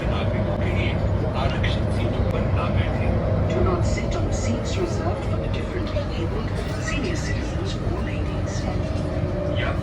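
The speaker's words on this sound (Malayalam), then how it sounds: "അങ്ങനെ ഞങ്ങൾ വന്ന മെട്രോ പോയി കേട്ടോ" A Delhi Metro train pulls away from a station platform with a continuous low rumble and whine of wheels and motors. Voices murmur faintly amid the steady station noise.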